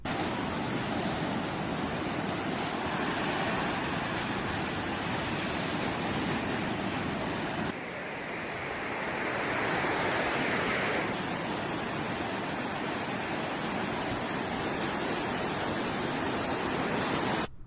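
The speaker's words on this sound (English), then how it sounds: "You guys really enjoyed the glowing blue waves from the last episode" Glowing blue ocean waves break on the shore in a loud, continuous broadband roar of surf that dips briefly midway before surging back.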